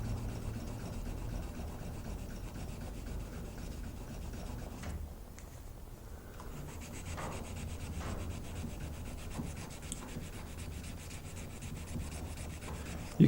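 A knife blade is hand-sanded with 320 grit sandpaper, giving steady, close rubbing strokes in a continuous rhythm with a brief pause midway, no voices present.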